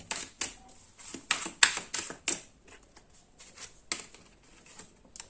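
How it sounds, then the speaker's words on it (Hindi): Tarot cards are pulled from a deck and laid down in a string of quick, crisp flicks and slaps, some sharper than others, fairly close and with no talking. "और कुछ कार्ड्स निकाल देता हूँ"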